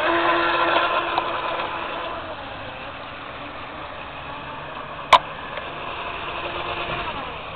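Small electric outrunner motor of a 5 oz RTR Nano Cracker Box boat on a 2S battery with a 25 mm prop, whining steadily at a distance, loudest at the start and then fading slightly, with one sharp click partway through.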